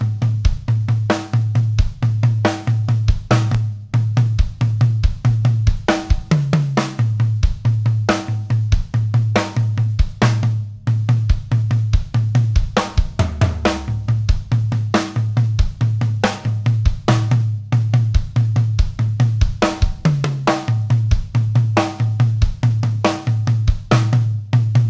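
Drum kit groove with turnaround doubles on high and floor toms and no hi-hat, a steady repeating kick and snare pattern with periodic tom fills, close and loud without talk.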